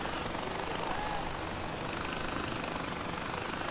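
A helicopter in the video game Far Cry 4 drones steadily throughout, a loud continuous rotor and engine wash filling the whole stretch with no talk over it.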